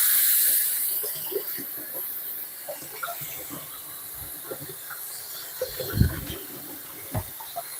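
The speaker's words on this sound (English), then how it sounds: "Let's see, wash my hands." Hands being washed under a running kitchen tap, a soft steady hiss of water with small splashes and knocks, fairly close and quiet.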